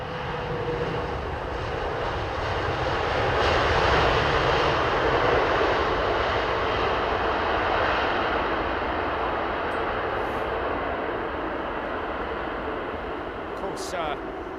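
An airliner lands in fog at Heathrow, its engines and thrust reversers producing a loud, steady broadband roar that swells slightly mid-clip and holds throughout.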